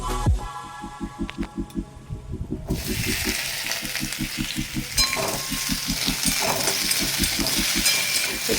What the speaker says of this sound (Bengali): এটা হালকা সামান্য ভাজা ভাজা করে নিই